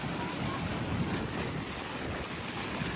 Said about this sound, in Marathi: वारा बघू शकताय